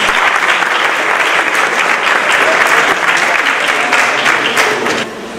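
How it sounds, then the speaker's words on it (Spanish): A conference audience breaks into loud, sustained applause for a professor taking the stage, a thick, even clapping that cuts off sharply just after five seconds. "Un aplauso, por favor, para el profesor Carlos Julio González."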